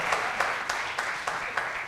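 An audience claps for a poet at an Urdu poetry event at a university, a brief burst of rhythmic applause with evenly spaced claps at moderate loudness.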